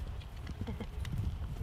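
A dressage horse runs across a paddock, hooves clip-clopping in a quick, uneven rhythm at close range over low rumbling background.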